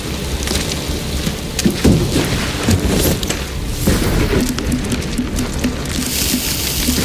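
Acid rain pours down in the cartoon Godspeed, a loud, steady hiss of heavy downpour with low rumbling booms of thunder rolling underneath and spattering drops hitting surfaces throughout.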